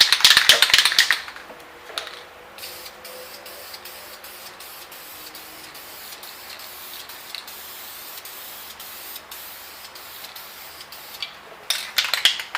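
An aerosol can of trim paint sprays a heavy coat onto car window trim on a 3rd-gen Honda Prelude, with a loud hissing burst at the start and again near the end, and soft ticking and a fan-like rush in between.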